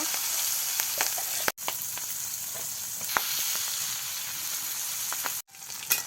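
Fish fries in hot oil in a village kitchen, a constant loud hiss and sizzle with small pops, briefly cut off twice, no voices.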